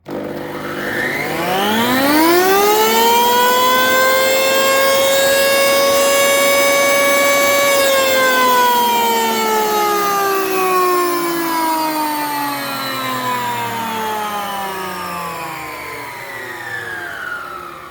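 A Rebir 5708M electric wood planer whines loudly, its pitch climbing as it spins up, holding steady, then slowly sinking like a siren winding down.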